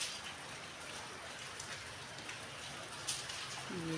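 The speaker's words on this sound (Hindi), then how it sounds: "और बारिश लगी है" Rain falls outside a house in Kullu, Himachal, a soft, steady hiss of drops heard from a distance with no voices.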